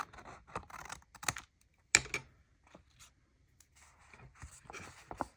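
Paper being cut while trimming a sage-colored envelope for a card, a series of short crisp snips and scratchy scraping bursts separated by quiet pauses.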